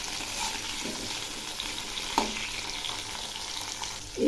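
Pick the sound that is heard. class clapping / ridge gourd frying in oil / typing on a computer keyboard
ridge gourd frying in oil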